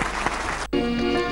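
A brief burst of crowd applause at a Hindi poetry gathering, dense clapping that carries through with a faint tone underneath.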